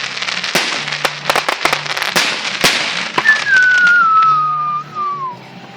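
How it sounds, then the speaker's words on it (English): Fireworks at a night display, with sharp firecracker pops and crackles followed by a loud whistling firework whose tone slides steadily downward for about two seconds before fading. "you should come to the whistle ones"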